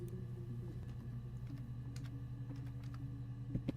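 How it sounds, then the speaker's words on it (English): Typing on a computer keyboard, heard as light scattered key clicks over a steady low hum in the background. "let's type in"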